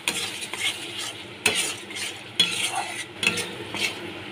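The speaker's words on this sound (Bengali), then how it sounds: "ভালো করে কষিয়ে নিচ্ছি।" Turmeric, Kashmiri chili powder and spices sautéed in a pan for yellow paneer curry, with repeated scraping stirs and utensil knocks over a soft, continuous sizzle, close and fairly loud.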